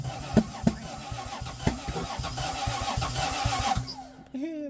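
A 2JZ engine in a Geo Metro cranks with repeated rough chugs, tries to catch, then falls quiet before a voice speaks briefly.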